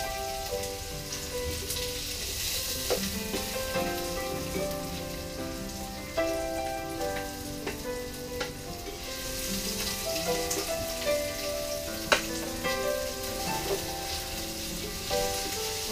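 Onion and garlic fry together in a pan for pork kilawin, a continuous crackling sizzle with occasional sharper pops and faint clinks, close and alone over a low background hum.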